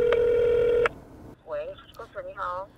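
A telephone call being placed: a steady ringback tone sounds loudly for almost a second and cuts off, followed by a pause and then a voice talking over the line.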